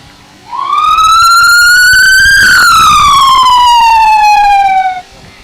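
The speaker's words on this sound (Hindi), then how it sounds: "अभी आएगा सुपर बॉल सायरन तो बजाओ भाई" A loud siren wails at a cricket match for a super ball, rising steadily in pitch and then falling away slowly, sounding once before cutting off.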